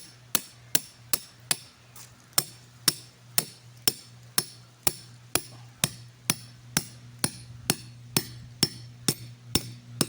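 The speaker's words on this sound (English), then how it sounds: "Get an old school claw hammer out." Steady, evenly spaced claw hammer blows drive a trap stake into the ground, about two per second, sharp and close over a low constant hum.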